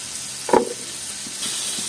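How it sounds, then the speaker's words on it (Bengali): Onions hit hot oil after fish has been fried in it, giving a sudden bright sizzle with a soft clunk, then a steady crackling fry that carries on alone. "তো এই তেলে এখন আমি দিয়ে দেবো পেঁয়াজ,"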